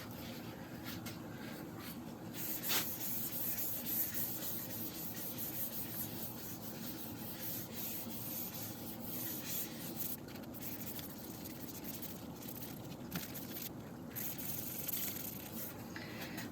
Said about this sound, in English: let's put some sanding sealer on it.